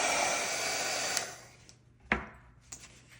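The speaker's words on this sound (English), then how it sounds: "my heat gun" Heat gun blowing over wet watercolor paint in a steady, breathy whoosh that cuts off after about a second and a half, followed by a couple of faint handling clicks in near silence.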